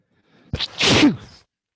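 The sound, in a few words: sneeze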